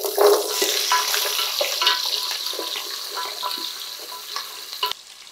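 Small onions sizzle and crackle in hot oil in a pan for Karnataka-style bisi bele bath, with steady close frying and intermittent stirring scrapes and clinks.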